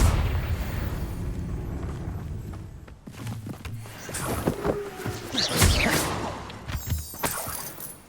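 A Confringo fire spell explodes in a Harry Potter video game, landing as a sharp burst with crackling debris and a low boom after a rumbling lead-in, amid busy game noise.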